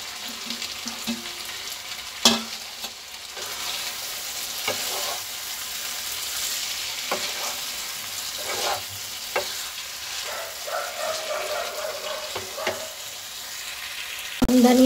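Paneer stirred and fried in a pan for chilli paneer, a continuous hissing sizzle with scraping spoon strokes and occasional clacks against the pan, close and steady.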